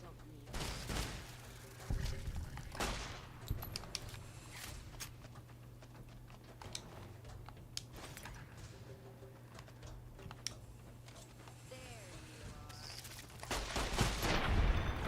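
Automatic weapon fire from a 3-round burst gun in Fallout New Vegas, heard as scattered sharp gunshot bursts across the scene, some close and loud, others fainter, over a steady low game hum with a voice talking at times.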